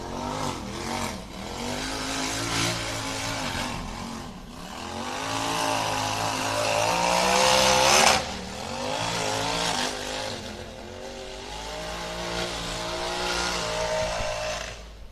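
A UTV racing engine revs hard and rises and falls repeatedly while its tires spin across logs on a rough course, loud and continuous, with no talk over it.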